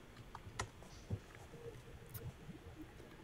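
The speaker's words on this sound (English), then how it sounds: "I'm typing as fast as I can go." Faint, quick computer keyboard typing taps along in an irregular patter with a few sharper clicks, quiet and close, with no talking.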